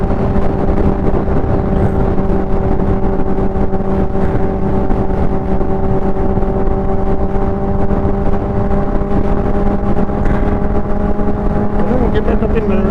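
Steady, loud drone of a 2005 Honda motorcycle engine at constant speed, with strong engine hum and wind rush continuing unbroken throughout.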